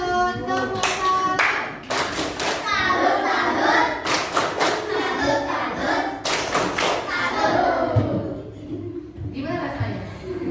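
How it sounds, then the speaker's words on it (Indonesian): Young children in a classroom clap their hands in a few uneven bursts of sharp claps and thumps, with a teacher and children talking between and over them. "Beri tepuk tangan. Tepuk tangan."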